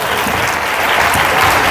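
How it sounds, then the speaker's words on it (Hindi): Loud, dense applause from a gathered congregation, continuous clapping filling the space without pause. "जोरदार ताली बजाती है।"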